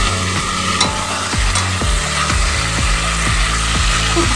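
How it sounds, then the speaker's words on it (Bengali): Boiled young goat mutton is fried with spices in a pan, a loud, steady sizzle with a spatula scraping and stirring in a regular rhythm close by, and no voices. "খুব ভালো করে মশলার সঙ্গে কষিয়ে নেব"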